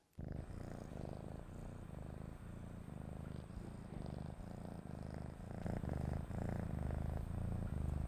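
A cat purrs close up, a steady rhythmic rumble of in-and-out breaths that continues without pause.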